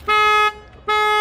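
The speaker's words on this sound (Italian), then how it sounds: "la macchina comincia a suonare" A 2020 VW T-Cross Advanced 1.6 TDI car alarm sounds after its door is opened: two loud, steady, buzzy electronic tones, each about half a second long, separated by a short silent gap.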